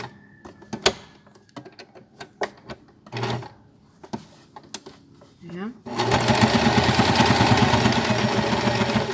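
A sewing machine stitches a child's fabric face mask, first in a few short bursts between handling clicks and quiet talk, then running in a loud, continuous, rapid whir for the final few seconds.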